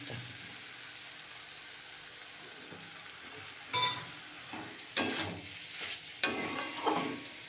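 Eggplant and shrimp cook in a pan over a low, steady sizzle, broken by several clattering bursts as the food is stirred and the utensil clinks against the pan.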